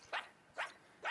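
A virtual dog in a VR game barks three times, short sharp woofs evenly spaced about half a second apart, moderately quiet with nothing else over them.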